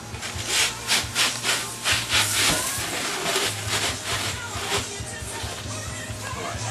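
Two meatball calzones are slid out of a hot oven on a pizza peel, with steady scraping and rubbing of the peel against the oven floor under a faint hiss and a low hum, up close.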